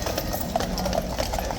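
Horses ridden three abreast at Horse Guards in London clip-clop steadily on the ground in wet conditions, with the hoofbeats heard amid crowd murmur and outdoor noise.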